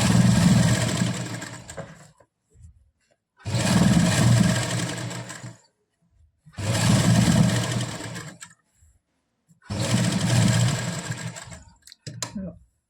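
A sewing machine in a boutique tailoring workshop runs in four separate bursts of about two seconds each, a close, steady whirring clatter with quiet pauses between runs.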